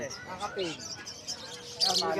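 Lovebirds, green and yellow-faced opaline birds, chirp and tweet in short bright calls at the Bocaue pet market, mixed in with someone talking nearby, a louder burst of chirping near the end.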